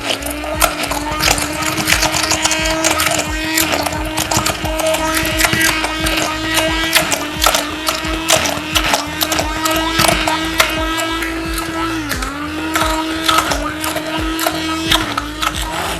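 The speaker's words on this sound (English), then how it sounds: "then you put in your little hand blender" A small hand blender whirs steadily through a honey and coconut body butter mixture, a continuous motor hum with rattling, clicking texture, close and fairly loud, briefly dipping in pitch as the load shifts.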